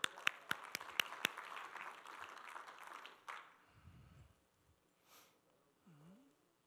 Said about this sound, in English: Let's bring them up with a big round of applause.